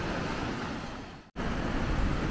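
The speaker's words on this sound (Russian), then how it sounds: "я хочу спуститься поближе к воде и показать вам поближе нашу реку" A mountain river at Yangiabad in Uzbekistan, swollen after rains, with a loud, steady broadband rush of flowing water that cuts out for an instant midway and then resumes.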